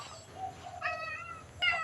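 A cat kept in a cage at a temple meows softly, a couple of short faint calls in a quiet setting.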